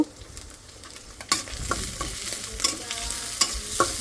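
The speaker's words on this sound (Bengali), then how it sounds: "এখানে হলো আমি চিংড়ি মাছটা হলো ভাজা নিলাম এখন হলো পেঁয়াজ কাঁচামরিচ দিয়ে দেবো এটা হলো ভাজি করব" Shrimp fry with onion and green chili in a pan, a steady sizzle broken by repeated sharp scrapes and clacks of a spatula stirring against the metal.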